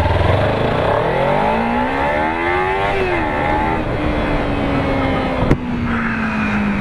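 A motorcycle engine revs hard during a ride, climbing in pitch, easing off, then holding a steady high drone, loud and close with a brief sharp knock near the end.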